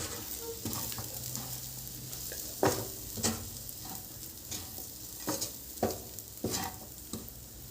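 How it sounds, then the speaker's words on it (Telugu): Ground masala powder of coriander seeds, cumin, poppy seeds and cinnamon fries for a prawn curry, with a continuous close sizzle and several sharp scraping stirs of a spoon against the pan. "ఇది కొంచెం ఫ్రై చేద్దాం."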